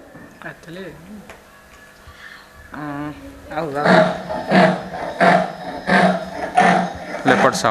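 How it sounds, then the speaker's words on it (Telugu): A recorded leopard call plays from a small zoo sound-button speaker: a series of loud, rhythmic grunting roars following a few electronic tones. "Leopard sound."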